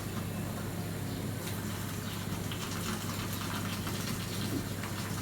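Hot water is poured from a kettle onto chickpeas in a pot, a steady, even rushing pour under a low electrical hum, with no voices.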